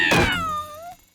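A single loud, drawn-out cartoon cat meow close by, rising then falling in pitch before trailing off, with no speech.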